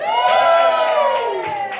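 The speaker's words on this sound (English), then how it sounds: "Can we have a cheer for James Dunn?" A crowd at a comedy show in Pontypridd cheers and whoops loudly and continuously, close and full, with shouts rising over the roar.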